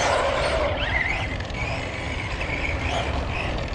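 An Arrma Senton Boost 4x2 RC truck with a brushed motor drives close by, its drivetrain whining and creaking over a steady broadband grind with rising motor pitch sweeps, no talking.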